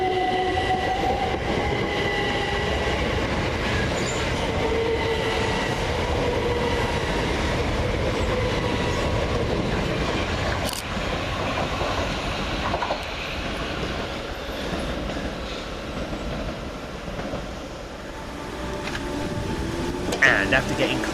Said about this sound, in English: 387-226 and 387-220 fly through. But depart actually, with the 12:54 Southern Railway service from London Victoria to Brighton.